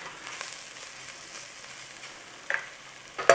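Garlic ginger paste sizzles quietly in a pan while being stirred, a soft, steady frying hiss with a couple of light clinks near the end.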